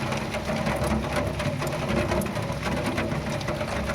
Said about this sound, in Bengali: তার উপরে আবার বৃষ্টির ওপর বৃষ্টি